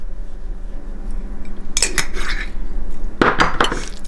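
Sardine salad being stirred with salt and dill in a bowl: a spoon scrapes and clinks against the dish in a few sharp bursts over a low background hum.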